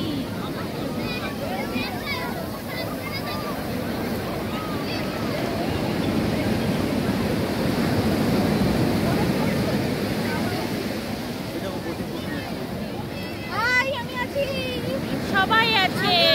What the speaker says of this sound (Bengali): অবশেষে আমরা সমুদ্রে নেমে পড়েছি।